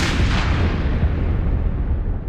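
A single loud, sharp blast with a booming tail that fades over about two seconds, sounding like a gunshot echoing outdoors.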